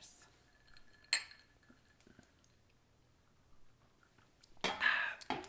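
Glasses meeting in a toast over restaurant drinks, Prosecco and water, giving a bright clink near the start and another sharper ring near the end, amid quiet table clatter.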